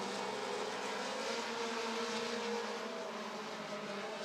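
Race cars roar around the Rockford Speedway short track, a dense, steady blend of engine noise heard from a distance with no clear individual pass.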